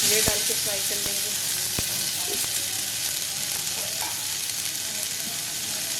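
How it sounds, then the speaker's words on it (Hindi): Chopped dried dates (chhuhare) frying in ghee for gond makhana panjiri, a continuous bright sizzle up close with a few sharp pops and light stirring, no talk. "अब इसमें ये छुहारे जो हैं इनको काटा हुआ है ये डाल के फ्राई कर लेंगे"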